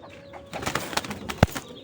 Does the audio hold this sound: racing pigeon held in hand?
yes